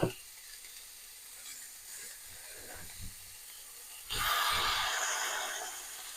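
Veal frying in a very hot pan for veal and zucchini parmigiana, a quiet sizzle that bursts into a loud close hiss about two-thirds through as more meat hits the pan.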